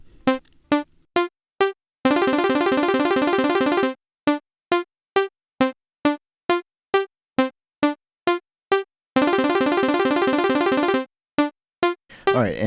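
Live-coded synthesized music pattern: sparse, evenly spaced tonal blips alternate with stretches where the same pattern plays eight times faster, blurring into dense continuous bursts, heard twice, clean and alone with no voices.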